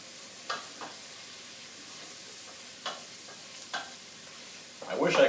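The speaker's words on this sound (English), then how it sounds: "I'm going to stir." Vegetables with garlic sweat quietly in a frying pan under a soft hiss, broken by a few separate stirring scrapes, then a louder sizzling burst at the end.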